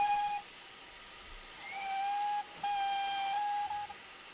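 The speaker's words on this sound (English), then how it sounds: "That's a couple of assortments of whistles on the Control B button." Several whistle toots from a GWR 2600 Class steam locomotive in Train Simulator 2020: a short blast, then a run of longer and shorter whistles over a steady steam hiss, with no voices.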